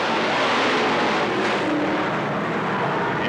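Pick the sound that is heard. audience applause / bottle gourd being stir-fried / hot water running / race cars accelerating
race cars accelerating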